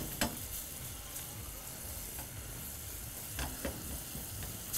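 Steak sauce being stirred in a pan with a spatula, a faint, even sizzle with a few light scraping strokes, close by and without speech.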